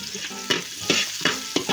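Garlic and onion sautéing in a hot pan, a steady sizzle broken by four regular scraping stirs of the spoon, close and clear with no talk.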